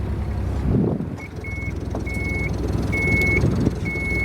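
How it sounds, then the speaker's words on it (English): A boat's backup alarm beeps in a steady repeating rhythm over a low engine rumble and wind noise at an anchorage, with no talking. "Pardon my backup alarm."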